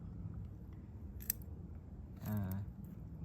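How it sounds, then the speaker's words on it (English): Scissors snipping through thick, juicy Haworthia roots during repotting, giving one sharp click followed by a longer crunchy cut, close and quiet, with no talking. "these roots are a bit fat and juicy, so they kind of stick to the scissors a little bit when I'm trying to cut"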